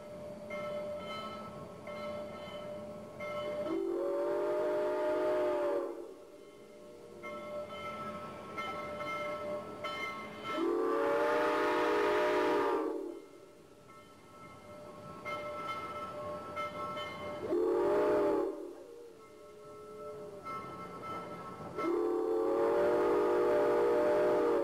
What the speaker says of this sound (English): the train ran down a neighborhood street